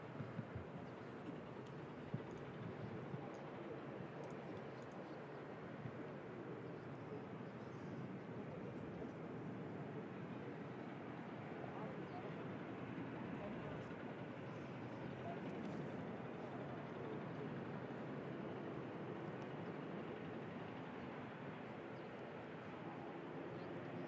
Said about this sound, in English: Catch this touchdown real quick. It's Ryanair arriving in from Alicante.